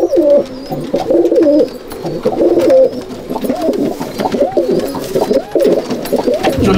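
A pair of loft pigeons is freed, and steady throaty cooing rolls on in repeated phrases up close, with some flutter and no talk.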